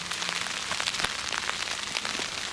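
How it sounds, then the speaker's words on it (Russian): Rain patters steadily on a tent during a spring carp fishing trip, a dense, even hiss with scattered louder drops close by throughout. "Вода, короче, дождь на улице."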